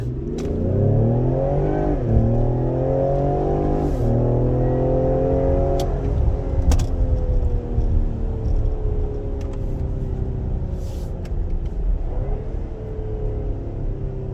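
A 2020 Ford Explorer ST on its stock exhaust pulls hard from a rolling start, the engine note climbing steadily through a gear change into a sustained, loud roar with no talking.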